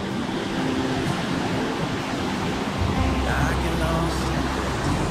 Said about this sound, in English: just look at this waterfall that they've got here